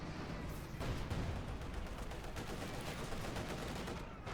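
Tank and field gun fire rolls through a Company of Heroes 2 battle, a dense, continuous barrage of booming shots and rumbling impacts, loud and unbroken throughout.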